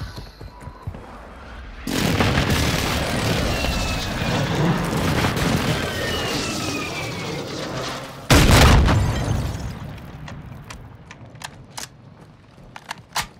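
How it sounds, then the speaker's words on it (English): Heavy airstrike explosions in a video game open with a sustained roaring barrage of booms and rumble, then a sharp louder blast. After it come scattered distant pops and faint crackles. "Heavy airstrike on the way."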